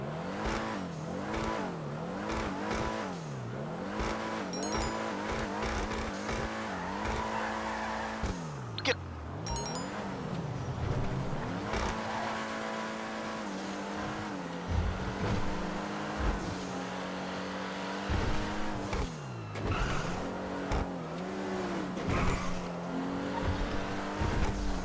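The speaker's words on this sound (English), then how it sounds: "it sounds like, you know, any sort of V8 supercar in GTA Online" In GTA Online, a Dewbauchee Spectre car's V8-style engine revs and rises through gear changes, with tire squeals and skids, faint and continuous across the whole stretch.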